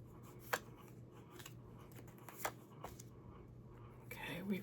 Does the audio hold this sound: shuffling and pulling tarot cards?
yes